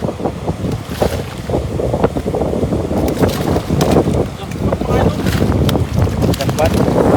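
Strong sea wind buffets the microphone aboard a fishing boat, a steady roaring rush with waves beneath it, while people talk over the noise.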